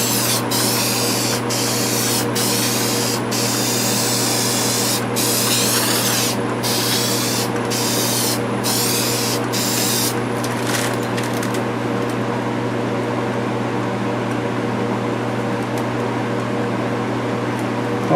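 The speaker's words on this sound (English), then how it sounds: "let's go ahead and spray some lacquer on there" Lacquer sprayed from a can onto a spinning wood-turned piece: a loud, steady hiss close by over a constant lathe hum, broken by several brief gaps in the spray before it stops.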